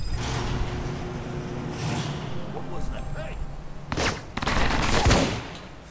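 Shotgun fire in Alpha Protocol, a series of sharp, loud blasts: scattered bursts early on, then two heavy back-to-back shots near the end, with talk running underneath.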